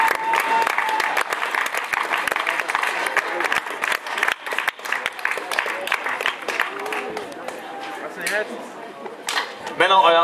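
At a youth triathlon award ceremony in Grimma, a crowd breaks into loud, sustained clapping with some cheering. It stays dense and close throughout, while a voice talks over it now and then.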